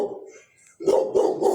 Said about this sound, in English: my nephew's dog